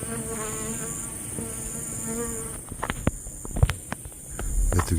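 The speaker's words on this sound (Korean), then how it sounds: "메뚜기" Outdoors in a grassy spot at night in July, insects keep up a steady, continuous high buzz and chirr. Rustling and light footsteps crackle nearby over it.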